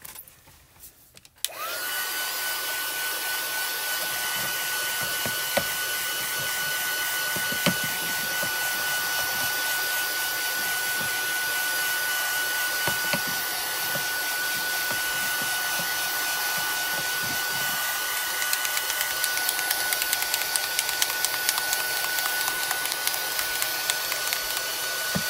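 Heat embossing tool blows continuously to dry ink on a rubber stamp, a loud steady whirring hum with a thin high whine that starts abruptly after a brief quiet moment and runs unbroken to the end.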